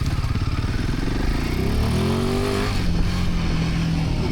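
Royal Enfield Himalayan 450 motorcycle engine running loud and close, with a brief throttle blip rising then settling back to a steady rumble off-road.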